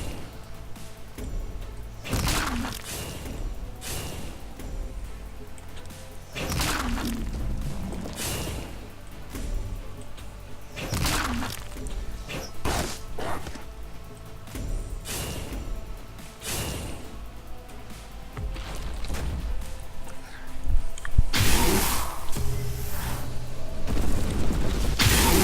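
Attack and shooting effects from the digital card game Duelyst, with repeated booming thuds and bursts spaced every few seconds over a steady game-music bed, growing louder and denser near the end.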